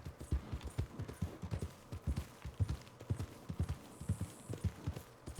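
Horse hooves clip-clop in a steady trotting rhythm in the Red Dead Redemption 2 video game, a quick, even run of distinct thuds heard fairly faintly and alone.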